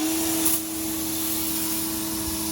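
A Ryobi pressure washer spraying a car's underbody frame: a continuous loud hiss of water over a steady motor whine, unbroken throughout.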